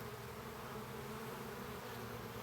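A landing honey bee swarm fills the air with a dense, continuous buzzing drone, steady and enveloping, with no voices.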